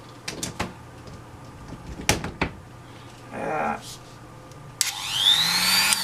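A few knocks and clicks, then a small high-speed rotary tool whines up and runs with a rising, shrill motor pitch.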